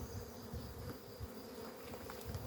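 Honey bees buzz steadily around an open hive frame while a beekeeper searches for the queen, a dense, continuous close-up drone with no voices.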